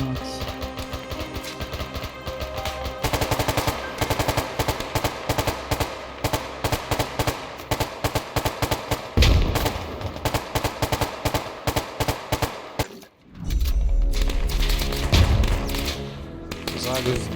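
Rapid bursts of automatic machine-gun fire in the video game Arma 3 rattle almost continuously, with short gaps and heavier booming blasts near the end, while a voice talks underneath.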